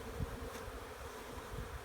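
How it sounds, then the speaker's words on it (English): Honey bees buzz around a freshly installed hive and nuc box, making a soft, continuous humming drone with faint rises as individual bees pass near. "the bees will find their way back into their hive"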